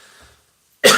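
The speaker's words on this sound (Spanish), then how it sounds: "La respiro y me da tos." A single sharp cough bursts out near the end after a faint murmur and a brief silence, set off by breathing in the fumes of spicy salsa at breakfast.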